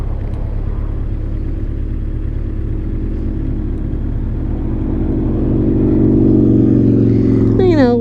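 A Honda CB1100 motorcycle pulls onto a quiet neighbourhood main road, its engine a steady low rumble under wind noise that builds and revs higher toward the end.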